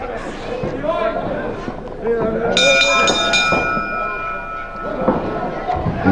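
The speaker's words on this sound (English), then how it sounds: "the bell will save Roberts having to worry too much about this one" At a 1970s World of Sport wrestling match, a ring bell dings to end the round. Its bright metallic tone rings out over continuous commentary and crowd noise.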